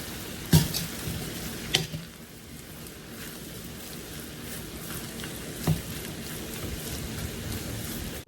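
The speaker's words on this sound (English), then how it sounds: "Go ahead and make sure it's stirred up well." A rice dish fries in a pan while being stirred, a steady bright sizzle broken by a few sharp scrapes and clanks of the spoon against the pan, close up.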